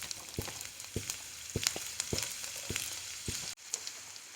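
Sliced onions sizzle softly in oil in a pan, a quiet continuous fry broken by regular light taps and knocks about every half second.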